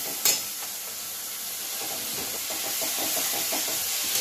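A little water poured onto spice paste with turmeric frying in oil for a spicy Bengali lote fish curry, giving a loud, steady close sizzle and hiss with a sharp spatter at the start and faint stirring scrapes.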